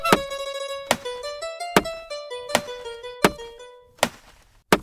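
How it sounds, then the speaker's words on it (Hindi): An axe strikes wood again and again in a steady rhythm, each sharp chop ringing briefly, about seven blows in five seconds, close and distinct. "अरे ये तो पेड़ काटने की आवाज है।"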